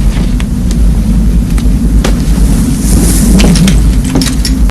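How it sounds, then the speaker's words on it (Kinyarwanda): Loud, steady wind roaring and buffeting against the microphone, with occasional sharp clicks and knocks, and no voices. "hanze hari umuyaga mwinshi"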